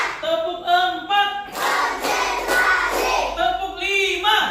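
A classroom of children does a counted clapping game, bursts of rhythmic group claps mixed with chanting voices, loud and close, between stretches of sung counting.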